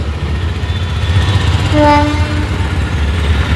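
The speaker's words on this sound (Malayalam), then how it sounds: "ഒരു എൻജിൻ പോകുന്നുണ്ടോ" A train engine rumbles past near a Thiruvananthapuram platform with a heavy low drone, and a brief horn sounds partway through.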